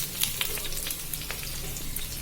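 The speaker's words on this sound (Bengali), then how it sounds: "এবার কেটে রাখা পেঁয়াজ কাঁচামরিচ আর রসুন দিয়ে দিচ্ছি" Onion, green chili and garlic frying in hot oil in a wok, a steady broadband sizzle with faint crackles throughout, close and continuous with no talking.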